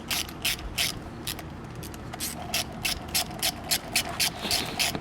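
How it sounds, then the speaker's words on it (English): A ratchet wrench loosening bolts while an intake is installed on a 2008 Hyundai Tiburon: a quick series of about a dozen sharp, rhythmic clicking strokes, close and clear with no talking. "So we're gonna go ahead and loosen everything up."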